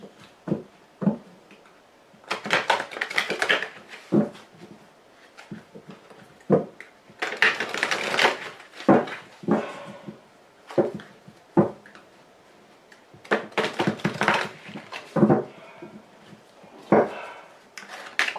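Tarot cards are shuffled and drawn, with bursts of riffling and soft slaps of cards laid down, irregular and close, separated by short pauses and no talking.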